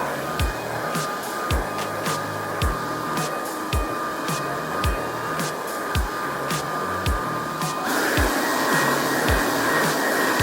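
Hot air blown onto the back of a Samsung Galaxy S20 FE 5G to soften it for opening: a loud, steady whirring drone with regular ticking pulses, growing slightly fuller toward the end.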